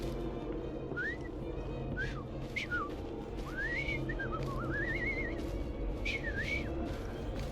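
A person whistles a few short rising and falling phrases in Assassin's Creed Syndicate, clear and fairly close over a steady rumble of city ambience, with no talking.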